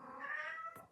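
A single drawn-out meow from a cat nearby, rising then tapering, ending with a short breathy noise.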